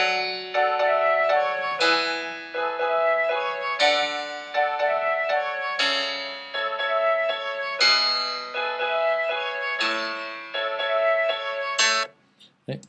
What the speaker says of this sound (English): now I'm just going to loop that melody around